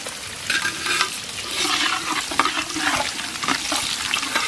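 Black cumin and bay leaf fry in hot mustard oil in a wok, a close, steady crackling sizzle with occasional stirring scrapes.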